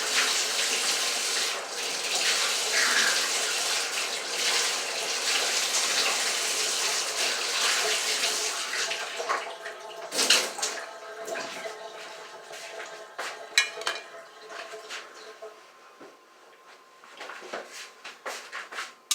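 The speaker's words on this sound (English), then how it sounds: "I'm rinsing the toothpaste out of my mouth." Water runs from a tap into a sink while toothpaste is rinsed out of the mouth, a steady close splashing stream broken by a few louder spits and gurgles.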